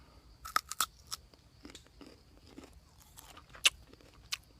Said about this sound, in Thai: เดี๋ยวผมจะลอง เก็บมากัดกินบางจักหน่อย ว่าจะเป็นรสชาติอะไร